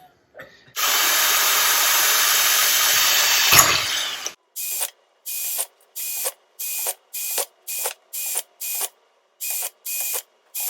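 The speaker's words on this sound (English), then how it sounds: "Now you can see all the holes are drilled, both top and bottom." A power drill bores holes in the lid of a can for a camp stove: one long, loud, high whine, then about a dozen short, evenly spaced bursts of drilling, each cut off by a brief gap.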